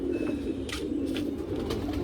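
Patiala pigeons on a rooftop give low, steady cooing that runs continuously and fairly close, with a few faint higher chirps over it.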